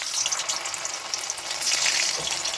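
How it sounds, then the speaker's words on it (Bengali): Flour dough balls deep-frying in hot oil, a steady close-up sizzle and crackle that holds evenly throughout and swells slightly toward the end. "এভাবে সমস্তটা আমি ভালো করে ভেজে নিচ্ছি।"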